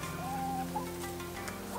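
Backyard chickens cluck softly in a garden on an early October morning, faint scattered clucks and murmurs against a steady background hum, no talking.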